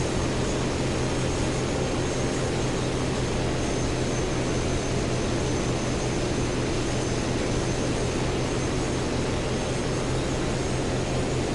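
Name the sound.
Wyvern aircraft engine in War Thunder video game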